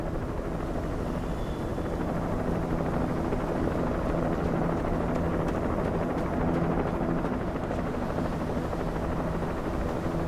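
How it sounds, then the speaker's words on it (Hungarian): A helicopter in the video game Alan Wake Remastered keeps up a steady loud rotor thrum and engine drone throughout, dense and continuous with no pauses. "Ez helikopter jön ránk."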